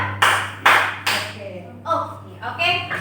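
A class clapping a rhythm pattern, three sharp group claps in quick succession followed by voices responding together.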